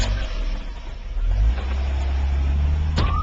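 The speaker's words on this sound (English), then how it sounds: "This is what driving with an out-of-tune engine feels like" A car with an out-of-tune engine revving, a rough, steady low engine drone that swells midway and holds loud, ending with a brief squeal.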